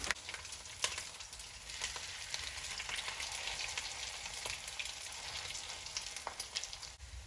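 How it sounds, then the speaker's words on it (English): Steady, crackling sizzle of canned tuna cakes frying in hot oil in a frying pan, with scattered sharper pops over a continuous hiss; no voices. "We're just going to set each of our tuna cakes inside of the frying pan."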